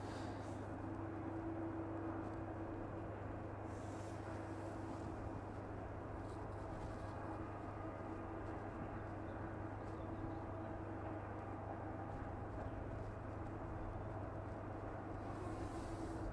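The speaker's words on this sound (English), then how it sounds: "The inbound 757 now. The usual evening service in from Reykjavik" An inbound Boeing 757 on the evening service from Reykjavik, heard far off over the M1 near the East Midlands runway threshold, as a low, steady broadband jet rumble that holds evenly throughout without any talk.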